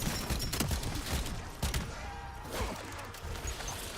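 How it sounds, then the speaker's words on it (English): Fireworks burst in rapid, crackling volleys inside the shooter game Black Ops 7, a dense, noisy stream of pops and bangs at moderate loudness, with no talk. "we're almost done with the firework activations"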